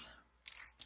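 Washi tape torn by hand, two short crisp ripping bursts close to the mic in a quiet room.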